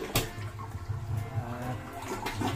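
A toilet bowl flushes with blue cleaner sitting in the tank, a close gurgling rush of water that keeps swirling for a couple of seconds, with faint talk mixed in.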